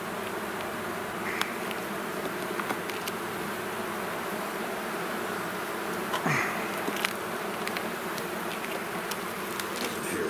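Honeybees buzz in a dense, continuous drone from an open hive, loud and steady throughout, with a few sharper passes as individual bees fly close.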